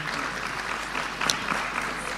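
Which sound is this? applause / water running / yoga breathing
applause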